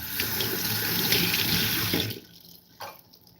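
Garlic cloves coated in turmeric rinsed under a running kitchen tap, a steady close splash of water for about two seconds before the flow is shut off, with a brief drip-like burst afterward.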